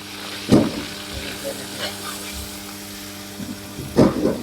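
Onions crackle and sizzle in hot oil in a cooking pot as a tempering is made, a steady frying hiss broken by a few louder stirring clatters, with people chatting nearby.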